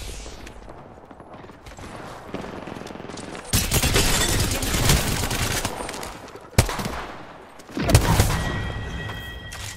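Bursts of video game gunfire from a weapon in a solo match, dense rapid volleys with loud onsets around the middle and end, sustained and close.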